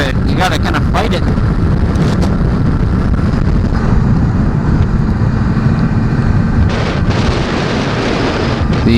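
Steady, loud wind buffeting dominates a motorcycle ride on a gusty highway, a continuous broadband roar with heavy low rumble and no letup, while a rider talks over it.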